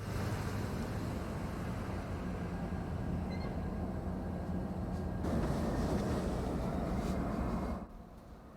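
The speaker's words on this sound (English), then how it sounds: "the ED9 with its big 6-axle locomotives pull the first half of its consist ahead out of track 8" The ED9 freight train, led by big 6-axle locomotives, pulls ahead out of the track as a steady low diesel rumble that swells slightly before cutting off near the end.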